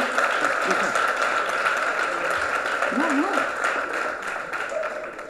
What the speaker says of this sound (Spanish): Me habéis aplaudido innecesariamente